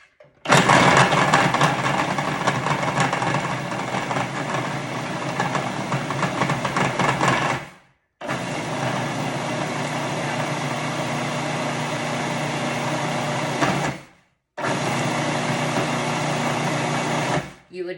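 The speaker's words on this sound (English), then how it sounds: "So I'm going to put 8 ounces in the food processor with 3/4 of a cup of sugar and grind it up together." Food processor grinding 8 ounces of almonds with three-quarters of a cup of sugar into fine almond paste, a loud steady whirring grind running in three long bursts separated by brief pauses, with no talk over it.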